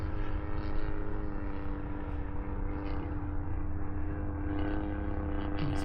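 Legend Hobby 81-inch Super Chipmunk RC airplane with a Stinger 40 engine flying after takeoff, a continuous steady engine drone with a strong low tone, moderately loud and unbroken, with no speech.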